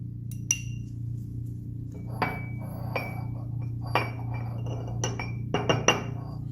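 Crushed clobazam tablet powder is scraped and tipped from a glass mortar into a porcelain mortar, giving a series of sharp clinks and taps at an irregular pace over a steady low hum.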